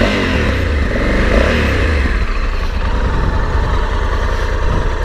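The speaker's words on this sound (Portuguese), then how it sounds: "o som desse motor da Africa Twin" A Honda Africa Twin motorcycle engine runs steadily after starting, a loud, close, continuous low rumble and throb with no talking over it.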